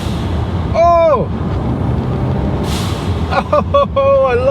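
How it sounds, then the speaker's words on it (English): Turbo blow-off valve on a 2016 Ford Focus ST, a short sharp hiss of released air over the engine's drone inside the cabin, with a person exclaiming before and after. "my favorite part is the blow off"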